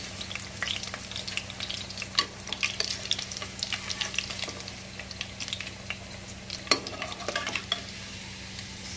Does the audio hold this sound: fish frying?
yes